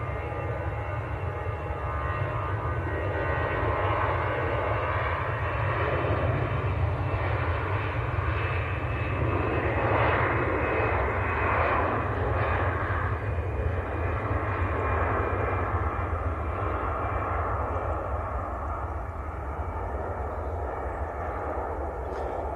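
An EasyJet airliner lands at Manchester Airport with a steady, loud roar of jet engines, the broadband rumble holding throughout with a slight swell in the middle and no voices.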